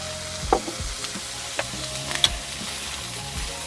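Sesame chickpeas pan frying in a backyard kitchen, a steady close sizzle broken by a few sharp clicks and stirring scrapes, with no voices.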